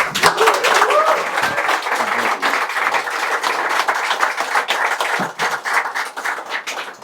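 A crowd at a live meetup with Catherine Connolly and Abubaker Abdel claps enthusiastically, dense and loud at the start and then thinning into scattered claps, with voices faintly mixed in.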